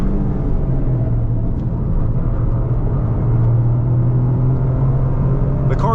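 Engine of a 2023 Toyota GR Corolla on the move with traction control off, a subdued steady drone and low rumble heard from inside the cabin, holding even without revving.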